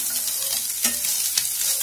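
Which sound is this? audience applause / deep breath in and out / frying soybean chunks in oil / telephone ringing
frying soybean chunks in oil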